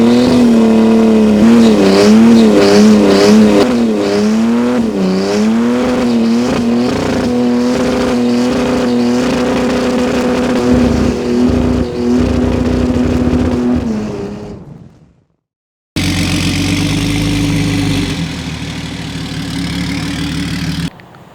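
A BMW E90 330D single-turbo diesel revs loudly and repeatedly close by, its engine note rising and falling in waves, then briefly goes silent before a rougher, steady engine roar returns.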